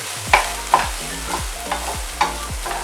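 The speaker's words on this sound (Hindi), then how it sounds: "अब इसमें चीज़ डाल देंगे। इसको भी फ्राई करेंगे" Onions and cheese frying in a pan with a steady low sizzle, broken by a series of distinct scraping stirs roughly every half second, close and clear, with no voices.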